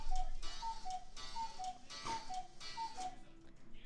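A timer ticking in a steady, even rhythm of paired clicks and tones repeating about twice per second, fairly quiet and alone without talking.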